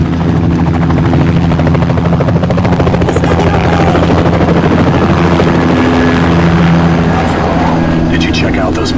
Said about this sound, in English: That's a military chopper they took off in.